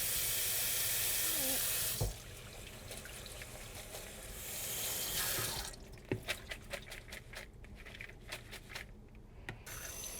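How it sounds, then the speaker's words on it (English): Vegetables rinsed under a running kitchen sink tap: a loud steady water stream for two seconds, then a softer flow swelling again, followed by scattered drips, splashes and handling clatter. "the first step is to get all these veggies rinsed in the sink and clean and ready to go."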